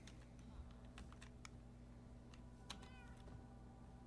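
A pet cat in Minecraft 1.20 lets out faint, soft meows amid quiet clicks of computer keyboard typing.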